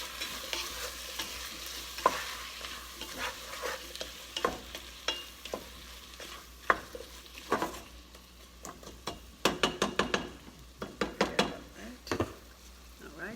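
A spoon stirs Goya seasoning into a pot for sopa de fideo, scraping and clinking against the sides in irregular strokes over a low sizzle, with sharper clatters building in the second half.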